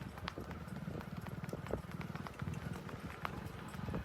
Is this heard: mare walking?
yes